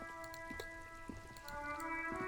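Steady rain patters on surfaces in the video game Disco Elysium, a constant soft wash heard alongside a sustained tonal music drone, with no speech.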